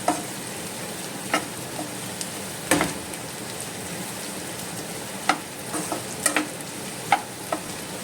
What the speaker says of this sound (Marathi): हे चिलीज आनी हे कॅप्सिकम घाता आनी ताका बरें भाजून घेता मातशें